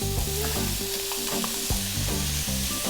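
Chopped cabbage goes into fried rice in a hot pan, and a steady close sizzle of frying runs throughout with tonal music underneath.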